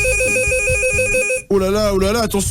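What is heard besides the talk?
red telephone ringing on radio show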